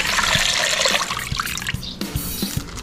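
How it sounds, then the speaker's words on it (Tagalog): Water pours into a cooking pot holding large beef bone marrow pieces for soup, a steady splashing rush at close range with a few knocks against the pot. "Lagyan natin ng tubig."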